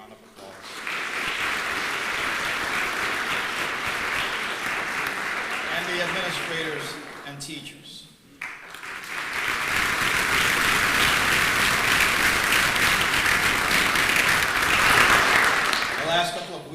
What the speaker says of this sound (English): Give your family members a round of applause.